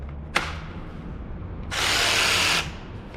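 A cordless battery drill drives a screw while building a caravan: a sharp click, then a brief whining motor burst lasting about a second, close and loud against a quiet room.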